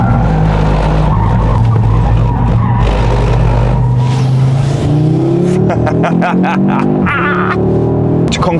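A 2022 Audi RS3 in RS mode brakes hard, its engine roaring loudly before the tires break into a long, rising screech, followed by bursts of skidding squeal and revving, close and intense.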